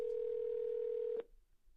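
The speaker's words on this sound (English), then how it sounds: "It's calling my phone here." An outgoing phone call placed through FreedomSoft software, a steady electronic dial tone held for just over a second before cutting off abruptly into quiet.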